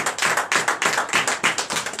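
A church congregation at a night deliverance service in Comè, Benin claps in a fast, steady rhythm, loud and close, with sharp repeated hand strikes and no voices over it.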